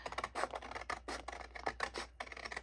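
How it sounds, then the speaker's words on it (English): Scissors cutting paper while trimming along a pencil line for a decorated suitcase journal craft, a close series of crisp snipping strokes in uneven rhythm with short pauses between cuts. "So let's cut this out."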